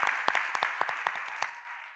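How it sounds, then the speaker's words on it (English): An audience at a high-level climate debate event claps in a short, crisp burst of applause, the individual claps sharp and close together for about two seconds with no one talking over it. "that's an invitation to practice the clapping and the whooping we need you to do the whole time"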